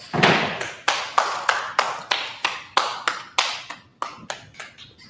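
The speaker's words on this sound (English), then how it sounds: "clap it up" Hand clapping in a small class setting, a series of about a dozen sharp, separate claps at a steady rhythm, close and distinct with no talking.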